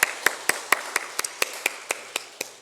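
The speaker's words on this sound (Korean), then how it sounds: "네, 다시 한번 큰 박수 보내주시면 감사하겠습니다." A church congregation claps in a slow, even rhythm, about four crisp claps a second, each one distinct, with no voices over it.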